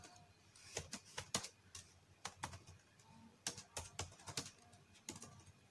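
Fingers type a prompt on a computer keyboard in short irregular bursts of crisp clicks, close and fairly quiet, with brief pauses between flurries and no talking.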